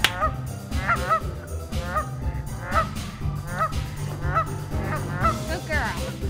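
Several geese in a park honk loudly and repeatedly at close range, overlapping nasal calls in a steady uneven rhythm, with a duck dog nearby.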